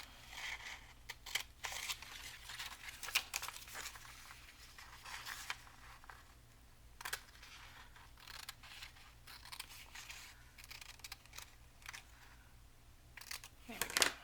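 Scissors cutting paper for an envelope craft, a series of soft close snips and rustles with crinkling paper, faint and irregular, with small handling noises between cuts.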